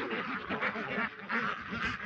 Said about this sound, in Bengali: কাছাকাছি বেজিং জাতের হাঁস, বড় হাঁস